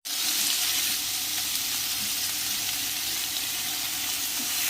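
Tomatoes with onion and ginger garlic paste sauté in a pan for a Chettinad chicken gravy, giving a steady, close sizzle and frying hiss that runs unbroken from start to finish with no talking.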